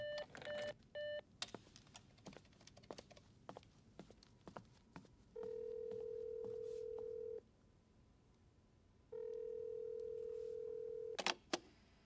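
A landline telephone rings unanswered in a quiet room, two long steady ring tones several seconds apart after a few earlier beeps and small handling noises, with no voices.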